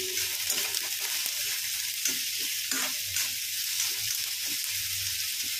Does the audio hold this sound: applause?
no